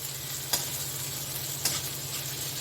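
Fritters fry in hot oil with a constant close crackling sizzle, broken by two brief sharp scrapes of stirring.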